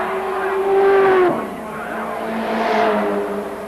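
Touring race cars at Symmons Plains, Tasmania in 1983, screaming past at high revs near the finish, engine note dropping sharply as one car goes by, then another car rising and fading; loud and close.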